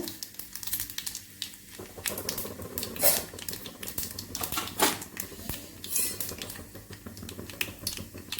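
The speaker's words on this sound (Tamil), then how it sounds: "எண்ணெய் காஞ்சிருச்சு கடுகு போட்டுக்குவோம் கொஞ்சம் உளுத்தம் பருப்பு" Mustard seeds, urad dal and a pinch of cumin crackling in hot oil for a Tamil Bombay kulambu, a steady stream of sharp pops and sizzling crackles throughout, fairly close and moderately loud, with no talk.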